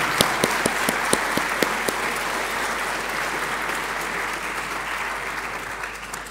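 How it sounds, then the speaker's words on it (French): A graduation ceremony crowd applauds loudly and steadily. A few sharp, distinct claps stand out at the start, then merge into a sustained, dense wash of clapping. "on peut applaudir"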